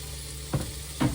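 Sliced onion added to a pan of sizzling garlic for a stir-fry of vegetables and eggs, heard as a steady frying hiss with two soft knocks of utensils against the pan.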